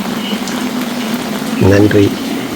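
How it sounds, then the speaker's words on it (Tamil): Heavy rainfall in Pannur pours down steadily, a loud continuous wash of water hiss filling the whole clip, with a short voice sound briefly rising over it near the end. "மழை பெஞ்சிக்கிட்டே இருக்குது"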